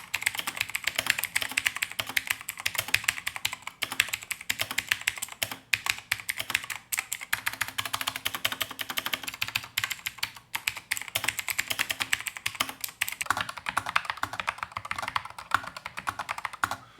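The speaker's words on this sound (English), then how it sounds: "here's a sound test of an older Razer gaming keyboard" Continuous rapid typing on an older Razer BlackWidow gaming keyboard with Razer green switches, a dense stream of clicky keystrokes close up, with no voices.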